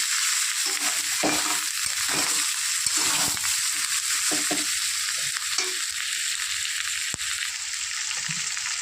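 Shrimp and taro curry sautés in a pan with a steady, close frying hiss, broken by soft irregular stirring scrapes and no talking.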